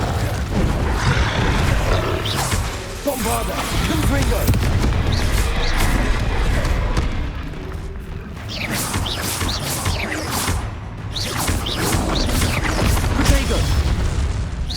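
Bombarda and Confringo spell blasts in Hogwarts Legacy, a loud run of booming explosions and crashes over continuous in-game combat noise, with shouted spell names in the mix.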